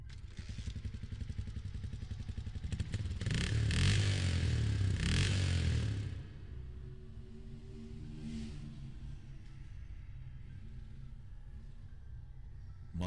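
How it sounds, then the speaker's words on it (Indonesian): An old motorcycle engine revs hard and loud for a few seconds, rising in pitch, then drops away to a lower, fading drone. "ia segera memutar tuas gas hingga limit"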